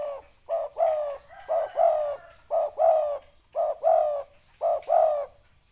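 Pigeons cooing in repeated paired phrases, clear and close, with short pauses between each rolling call and no speech.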